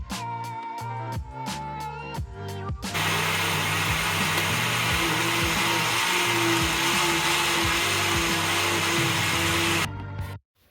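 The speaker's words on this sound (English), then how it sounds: "So now we're gonna blend our pineapple first." A countertop blender blends pineapple chunks. It opens with short pulsing bursts, then settles into a loud, continuous motor whir with a steady tone and rhythmic chopping, and stops sharply near the end.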